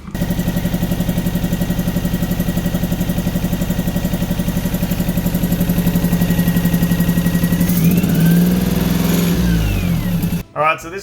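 A 3-cylinder car engine with a pod filter and a side pipe idles roughly nearby, a loud, steady, uneven throb that shifts pitch as it revs briefly near the end before cutting off abruptly.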